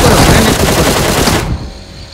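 Rapid automatic gunfire from PUBG Mobile rattles loudly and densely for about a second and a half, then cuts off, leaving a quieter fading tail.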